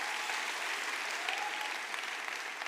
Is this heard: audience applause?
yes